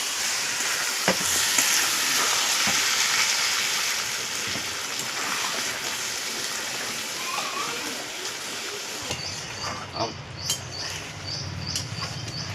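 Goat mutton fries in a pot with a steady sizzle and stirring, then hot water is poured in and the hiss drops to a softer bubbling with occasional clinks of the spoon.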